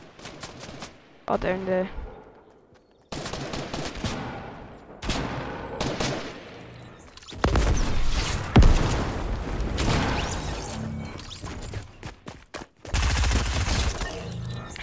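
Shotgun fire in the Fortnite video game: loud bursts of gunfire cut in and out in blocks, some rapid and dense, with a person talking briefly in between.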